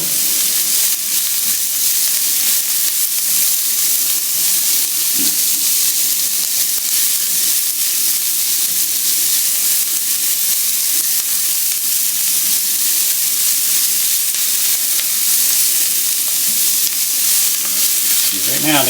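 Onions and garlic sizzling hard in a hot wok, stirred with a wok spatula, a loud continuous hiss and crackle close up with occasional scraping, no voices.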